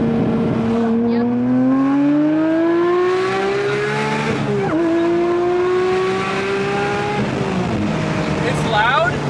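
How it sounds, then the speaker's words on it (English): A Porsche 992 GT3 with a modified aftermarket exhaust revs hard through loud, rising pulls, its pitch climbing steadily and then dropping with a shift, close and continuous throughout. "The car revs, so I've been able to do pulls and it sounds sick."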